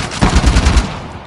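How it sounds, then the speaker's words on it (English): A rapid burst of gunfire in Uncharted: The Lost Legacy, several sharp shots in quick succession, loud and close, then fading out. "Didn't you hear those gunshots?"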